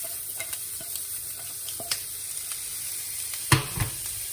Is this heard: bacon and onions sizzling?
yes